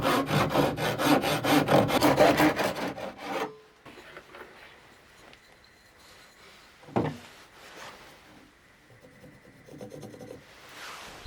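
Solid wood is hand sawn in a straight-cut jig, with a burst of quick, close rasping strokes for a few seconds, then quiet handling and faint scraping.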